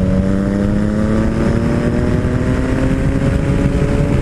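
A Yamaha MT-09 Tracer motorcycle accelerates hard in one loud, continuous pull, its engine note climbing steadily and filling the foreground with no voices.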